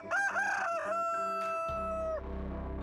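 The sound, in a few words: rooster crowing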